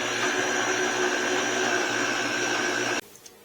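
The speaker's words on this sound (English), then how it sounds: "We're then just going to blend it together so both the bacon and the uh, beef is well combined." A blender whirs steadily as it mixes bacon and beef together, a loud continuous motor drone that holds for about three seconds and then cuts off abruptly, leaving quiet room sound.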